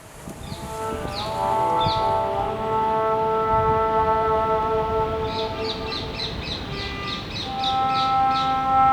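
Recorded birdsong samples played in an outdoor sound installation among aluminum and copper-tube instruments, with repeated chirping calls, a steady tonal drone and layered hum beneath, continuous and moderately loud.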